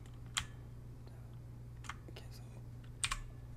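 A computer keyboard key press during a Blender car-rig tutorial: a few faint, isolated taps scattered over a quiet room hum.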